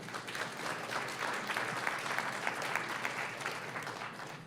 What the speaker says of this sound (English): I think he was expecting a lot more applause than that